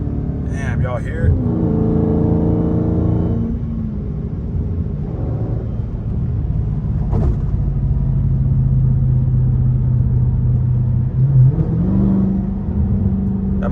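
A Dodge Charger Scat Pack with a quarter intake rumbles steadily while driving over a bumpy city bridge at night, a loud, continuous low engine drone with a short rise near the end and a voice talking over it early on.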